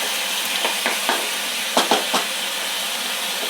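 Ingredients for an Amavasai thaligai fry sizzle in a pan under a steady hiss, broken by a few soft scraping stirs spaced across the clip.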